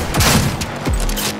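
Rapid gunfire in the video game Cyberpunk 2077 comes as a loud, close burst of overlapping shots lasting just over a second.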